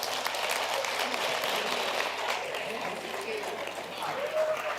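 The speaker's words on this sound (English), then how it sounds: "can we please give him a round of applause?" Sustained audience applause fills a live interactive session, a dense even wash of clapping that holds steady throughout, loud and close with no clear breaks.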